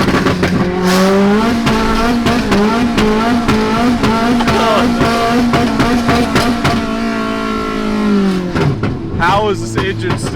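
A 60 hp Honda Civic drifts on McDonald's trays fitted over its tires, its engine revving hard in a wavering, close drone while scraping skids sound and people talk excitedly over it.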